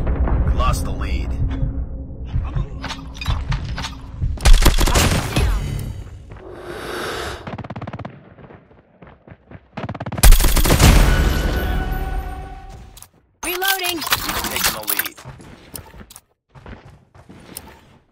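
Dense bursts of gunfire from a Call of Duty match featuring a Grau 5.56 rifle, loud rapid volleys separated by short pauses, with a voice speaking over the action.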